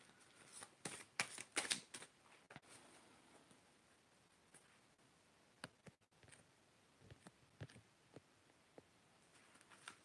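A deck of playing cards is shuffled on a small table in a large room, with a cluster of crisp riffling bursts early on, then sparser, quieter flicks and taps.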